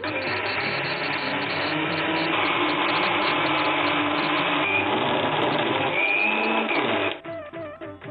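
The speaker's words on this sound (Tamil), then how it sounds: "இப்போ நம்ம இந்த அரிசியை அரைச்சிடலாம்" An electric wet grinder churns soaked rice into batter, a loud, steady whirring drone that runs unbroken for about seven seconds before cutting off and leaving a few faint clatters.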